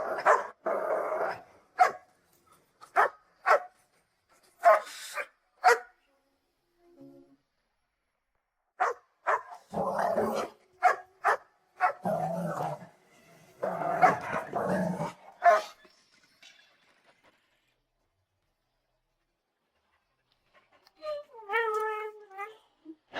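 A dog barks and yips in short, sharp bursts scattered through the clip, mixed with other loud vocal sounds and gaps of silence.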